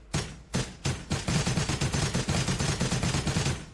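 Rapid automatic weapon fire in an Unreal Engine 5 shooter game, starting as a few spaced shots and quickening into a steady, loud burst of repeated gunshots with no talking.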